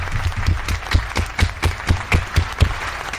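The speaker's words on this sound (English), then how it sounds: "let's give James a round of applause on that one here" Small group clapping in a loose, fairly regular rhythm for a person named James, individual claps close and distinct rather than a large crowd's wash, with no talking.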